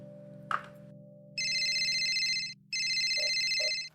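A phone rings in two long bursts of bright, steady electronic tone, close and clear over a low background hum, with a soft knock just before and short blips in the gap between the rings.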